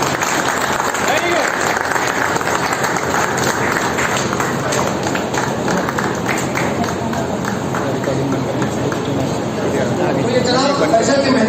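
Sustained, loud applause from an audience at a family reunion gathering, a dense wash of clapping lasting throughout with a faint murmur of voices mixed in.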